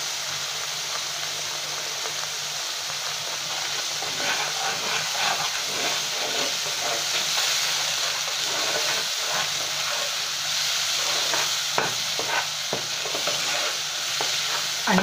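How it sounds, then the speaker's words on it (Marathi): Spice paste with masala and turmeric fries in a pan for katachi amti, giving a steady, close sizzle and hiss with light stirring scrapes and no talk. "आणि याला व्यवस्थित खरपूस परतून घ्यायचं आहे."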